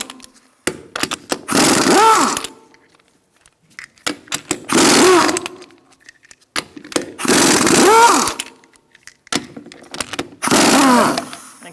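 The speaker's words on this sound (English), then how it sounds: "Using a 19mm socket, we're going to remove our lug nuts." Bursts of an impact wrench or power ratchet with a 19mm socket spinning lug nuts off a 2002–2006 Honda CR-V rear wheel: four loud whirring runs of about a second each, separated by short pauses with light clicks and handling.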